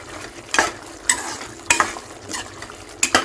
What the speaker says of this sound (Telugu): ఇప్పుడు మనం ఇందులోకి ఒక స్పూన్ కొబ్బరి పొడి, ఎండు కొబ్బరి పొడి వేసేసుకొని మంచిగా కలుపుకుందాం